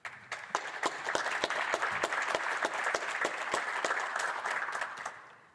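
Applause fills the House of Commons chamber in Canada's Parliament, a dense burst of many hands clapping with sharp individual claps standing out, swelling and then fading over several seconds.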